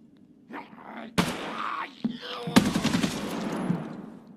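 Rapid bursts of gunfire in Escape from Tarkov during a zombie fight, loud and close, with a sharp automatic volley near the start and heavier sustained shooting toward the end.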